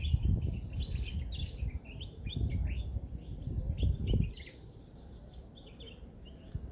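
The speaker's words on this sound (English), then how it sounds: "Listening to the birds," Birds chirp in quick, scattered notes over rumbling wind-like noise outdoors, the chirps moderately faint and continuing after the noise eases.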